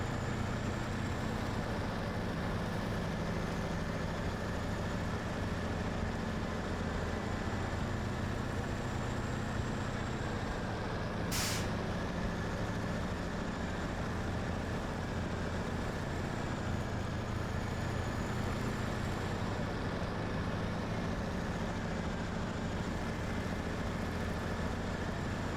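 A heavy logging truck in SnowRunner crawls along in low gear, its engine giving a steady low rumble that holds for the whole stretch with no talk.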